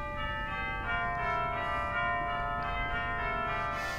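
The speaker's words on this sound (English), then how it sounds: "We've got beautiful chimes." Bell-like chimes from a pipe organ's chimes stop ring out over a sustained organ chord, resonant and steady, with soft strikes blooming and fading in a reverberant home space.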